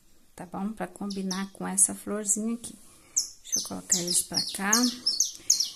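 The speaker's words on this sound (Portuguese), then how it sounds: "Tem um passarinho cantando aqui na minha janela," A small bird sings at a window, its high, rapid chirps repeating throughout, close and clear beneath a person speaking Portuguese during a crochet lesson.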